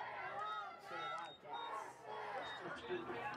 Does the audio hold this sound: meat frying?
no